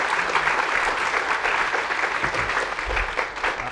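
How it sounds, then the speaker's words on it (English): Dense audience applause at an evening event, a thick, continuous wash of many hands clapping at once, fairly loud and even, with a few low murmurs underneath. "he deserves a round of applause"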